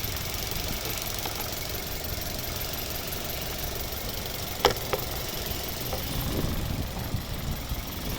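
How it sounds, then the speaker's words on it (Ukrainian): A 2008 Mazda 6 II with a 2.0 petrol-LPG engine and automatic gearbox idles steadily and evenly at close range, broken by a couple of brief sharp clicks midway. "Ось така робота двигуна."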